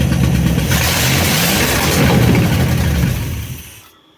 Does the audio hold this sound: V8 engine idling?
yes